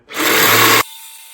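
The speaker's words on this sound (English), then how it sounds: "So I'm gonna see what the old Sawzall here will do." An old Sawzall reciprocating saw cuts through exhaust pipe on a 50-year-old John Deere 450 dozer, a single loud, close burst of rasping metal-cutting lasting under a second before it stops abruptly.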